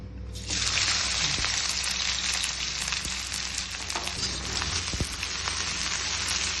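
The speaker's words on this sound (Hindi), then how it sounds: "अभी तेल हमारा गर्म हो चुका है। अब हम इसमें अपने प्याज डालेंगे।" Onions sizzle in hot oil for a Hakka noodles dish, with a loud, continuous hiss that starts as they hit the pan and keeps up a dense crackle with a few faint utensil knocks.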